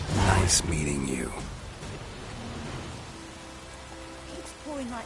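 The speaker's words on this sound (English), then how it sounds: "Keeps pouring like this on my Baltimore." Steady pouring rain in the video game The Witcher, a broad hiss running the whole time beneath voices and music, with a louder burst at the start.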